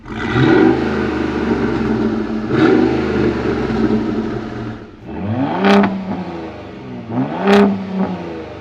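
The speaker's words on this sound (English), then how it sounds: "Admittedly, the V8 sounds amazing. You've got a Corsa exhaust on there, which is perfect because there's no drone or anything." A 2010 Ford F-150 Raptor V8 with a Corsa exhaust, heard from outside, idles and rumbles loudly up close, then gives two sharp throttle blips that rise and fall quickly near the end.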